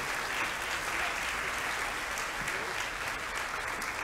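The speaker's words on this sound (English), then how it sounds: "A round of applause for 7G." Students and staff at a school assembly give a steady round of applause, a continuous, fairly soft wash of clapping from a large room.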